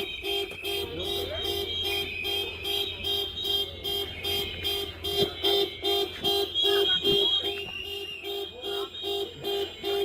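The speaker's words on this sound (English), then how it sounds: "Going there and honking the horns." Car horns honk over and over in a pulsing, rhythmic pattern at a protest, loud and continuous with overlapping tones above a busy street background.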